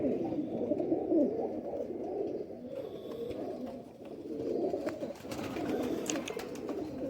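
Khatang pigeons coo softly nearby in low, repeated rolling calls, a steady murmur of several birds with no talking.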